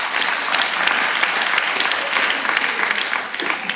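A stand-up comedy crowd breaks into sustained, even applause, many hands clapping together at full volume for several seconds with a faint murmur of voices.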